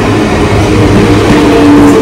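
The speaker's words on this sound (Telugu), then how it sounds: "వచ్చేస్తుంది మన ట్రైను." A crowded suburban train bound for Chengalpattu pulls into a busy Chennai station, a loud, steady, continuous rumble of wheels and cars rolling in close by.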